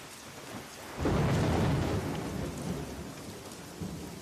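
Steady rain falls with a heavy roll of thunder swelling in about a second in and rumbling on, the downpour continuing loud and close beneath it.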